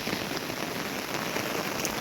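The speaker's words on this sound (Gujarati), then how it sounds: "આ વરસાદ પણ જોરદાર ચાલુ છે" Heavy rain pours steadily, a dense, loud hiss of drops pattering on surfaces without letup.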